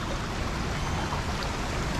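Pool water rushes steadily along a rocky channel built to look like a rolling river at a wilderness lodge resort, a dense, continuous close-up wash of flowing water with no pauses or voices.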